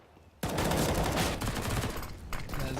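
Rapid automatic fire from an MP9 submachine gun in a CS:GO match, a loud sustained burst that starts abruptly and rattles on steadily, with no speech over it.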